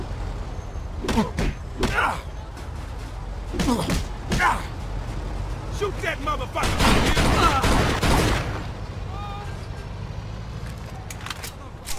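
Gunfire in the video game Mafia II: several sharp bursts of shots in quick clusters, loud and close, mixed with a long roaring stretch of heavy firing, with voices shouting over the fight.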